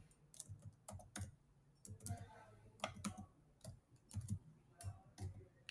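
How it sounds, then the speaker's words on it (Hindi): Typing on a computer keyboard, including a Ctrl+Enter press, gives a quick irregular series of soft, close key clicks in a quiet room. "जैसे ही मैंने कंट्रोल इंटर प्रेस किया"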